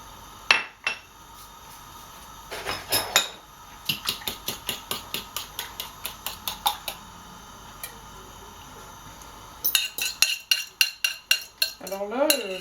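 Eggshells and scrambled egg are stirred in a pan for a homemade seed-eater feed mix, producing a run of evenly spaced clinks and scrapes with pauses between bursts and no talking.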